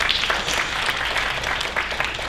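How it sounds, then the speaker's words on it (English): An audience at a Bharatanatyam Arangetram dance performance applauds a dancer's first guru, a dense, loud, continuous wash of clapping from many hands without a break. "Can we please have a round of applause for her as well?"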